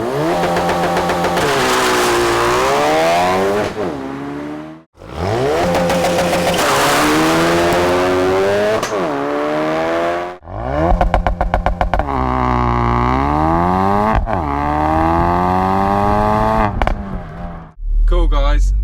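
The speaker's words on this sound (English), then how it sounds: "make sure it's in gear, you put your foot hard down on the accelerator," A 2016 Ford Focus RS makes a launch-control start and accelerates hard, its engine revving loudly through rising sweeps broken by brief gear-change dips, with a harsh crackle near the end.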